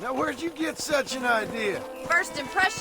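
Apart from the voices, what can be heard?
No everyday noises stand out.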